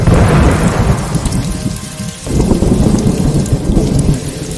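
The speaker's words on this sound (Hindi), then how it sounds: "चार दिन हो चुके हैं, बारिश रुकने का नाम नहीं ले रही है" Heavy rain pours steadily with deep rolling thunder rumbling throughout, briefly dipping before surging back, loud and close.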